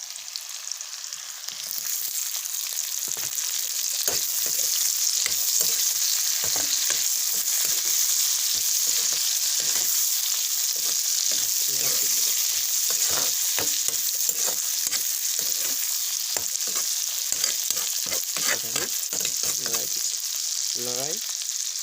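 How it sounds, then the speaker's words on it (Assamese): Potatoes and tomatoes frying in a pan, a continuous loud sizzle broken by frequent scraping and stirring knocks of a spatula, close and steady throughout. "আলু দি দিম আৰু এই বিলাহীখিনি আমি ইয়াত দি দিম।"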